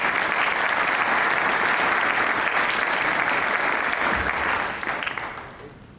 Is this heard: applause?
yes